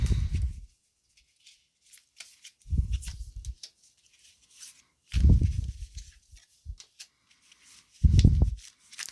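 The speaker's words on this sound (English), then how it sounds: "I'm going to pull a few tarot cards" Tarot cards are shuffled and drawn in short, quiet bursts of papery riffling and rubbing, separated by near-silent pauses.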